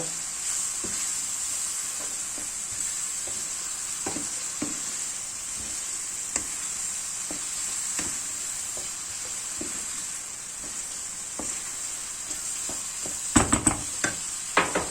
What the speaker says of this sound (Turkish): Maydanozlarımla birlikte de karıştırıyorum.